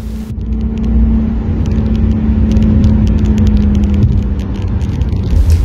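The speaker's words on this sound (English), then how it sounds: "filming a reckless and extremely dangerous high-speed chase along the R44" A car in a reckless high-speed chase along the R44 road, heard as a steady loud engine rumble and roar that holds for several seconds with no talking.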